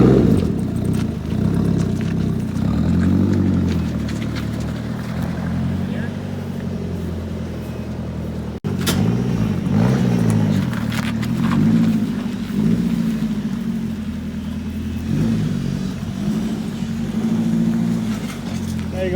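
A Nissan 240 rolls slowly into a dirt driveway, its engine a steady low rumble throughout with people talking over it.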